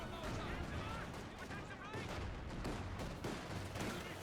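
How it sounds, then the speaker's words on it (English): An IL-2 bombing strike lands in the Company of Heroes 2 multiplayer match: a dense, continuous roar of explosions and gunfire, loud and sustained throughout, with a voice talking over it. "I hear the IL-2 bombing strike coming on in"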